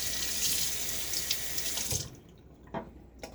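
A bathroom tap runs for rinsing after a shave with a Gillette d'Luxe razor, a steady close splash that cuts off about two seconds in, followed by a few faint drips and clinks.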